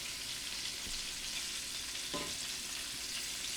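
Gravy of chicken drippings, flour and heavy cream being stirred in a pan, a steady soft simmering hiss with a couple of brief utensil scrapes against the pan, no talking.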